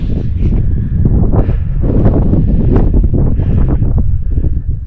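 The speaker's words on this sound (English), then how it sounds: "It's pretty windy." Strong, steady wind buffets the microphone throughout on Caps Ridge, Mount Jefferson, New Hampshire, a loud rumbling roar with gusty rustle and no voices.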